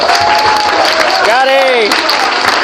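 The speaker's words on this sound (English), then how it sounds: "Can we get a final round of applause, guys, for Rubox?" Applause from a crowd at a 20th anniversary reunion gala fills the room as a steady dense wash, with a voice rising briefly over the clapping in the middle.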